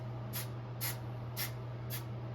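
Four short, even hisses of glue spray from an aerosol can, applied to the forehead along the edge of a bald cap during a lace wig install, close and faint over a steady low hum.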